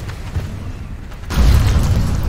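Tank cannon firing in Total Tank Simulator: a low rumbling boom opens about halfway through over steady background noise, then rolls on as a heavy, sustained low roar.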